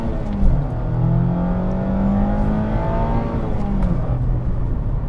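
2024 Mazda MX-5 Miata engine blipping through heel-toe downshifts, with quick revs that rise and fall in clear harmonic sweeps over steady road noise, heard from inside the car and without talk.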